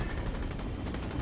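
Gunfire in the Fortnite video game, a dense, loud burst of rapid shots filling a short stretch with no voices.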